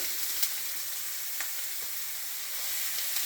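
Ground turkey frying in hot oil in a pan for tacos, a steady close crackling sizzle with a few sharper pops, no voices.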